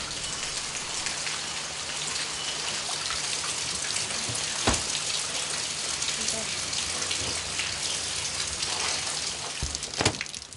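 Steady rain falls on a surface for the whole stretch, a dense even patter of drops with a couple of louder splashes, and no one speaks.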